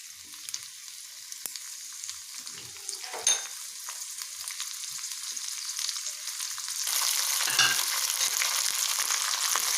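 Curry leaves, peanuts, urad dal and mustard seeds frying in hot oil for pulihora pachadi, a steady close sizzle with light crackles and stirring, swelling louder toward the end.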